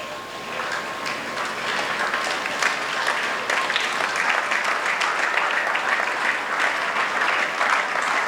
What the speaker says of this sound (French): Yes, clap, clap. It is victory.